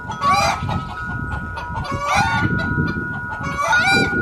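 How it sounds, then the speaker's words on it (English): A hen cackles loudly and repeatedly in rhythmic bursts after laying an egg, with a steady electrical hum underneath. "So chickens can be kind of noisy, like female chickens. When they lay their egg, it's like they want praises."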